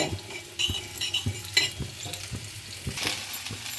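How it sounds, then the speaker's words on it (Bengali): Panch phoron and black peppercorns fry in a pan with a soft crackling sizzle, punctuated by a series of regular spoon taps and scrapes against the pan. "পাঁচফোড়নটাকে এই দশ পনেরো সেকেন্ড মতো ভেজে নিতে হবে"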